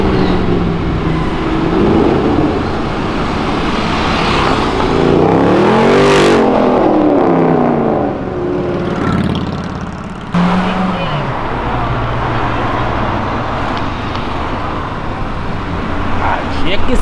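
A Jeep Renegade drives past on a street, its engine and tyre noise swelling to a close peak and then fading, among ongoing traffic with voices talking over it.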